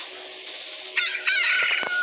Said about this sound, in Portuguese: os pintinhos estão crescendo e virando cuckoos. São as galinhas.